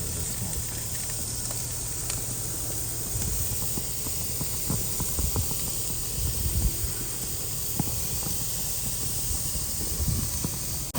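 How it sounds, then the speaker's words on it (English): Dry-aged ribeye and filet mignon steaks sizzle in a constant broad hiss, with small crackles and pops scattered through it, close and fairly loud throughout. "listen to that sizzle."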